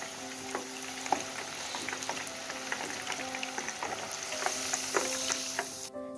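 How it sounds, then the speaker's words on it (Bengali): Bangladeshi-style kebabs frying in oil in a pan, a steady crackling sizzle with scattered pops and occasional faint utensil clinks, heard close and alone. "ঠিক একইভাবে বাকি 2টি কাবাবও ভেজে নেব"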